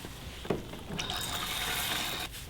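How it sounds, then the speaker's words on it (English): Water from a tap is added to shampooed hair during a hair wash, giving a close, soft splashing and trickling that begins with a small splash and runs steadily for about two seconds. "I'm just going to add a little water."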